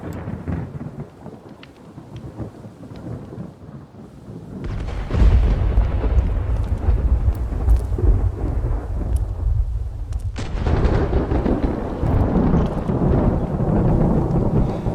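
Heavy rumbling thunder and steady rain from a Minecraft thunderstorm fill the scene, swelling loud midway and staying dense and roaring with no voices.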